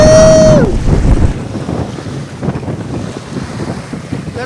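Wind rushes heavily against the microphone and waves wash past a sailboat running easily at about 5.5 knots under a pulled-out genoa. A brief tonal whistle opens the sound before steady wind and water take over.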